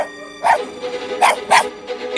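Dog barks in a short series of about three sharp yaps, close and fairly loud, with a brief whine or yelp at the start, in a narrated fairy tale about a traveller and a jeweller.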